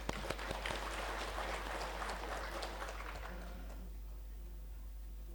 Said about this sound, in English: Let us give a big round of applause for your presence.